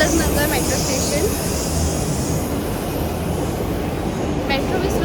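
Delhi metro train at Tilak Nagar station, a steady loud rumble of the carriage running on the rails with a high whine above it, continuous throughout, with voices faintly mixed in.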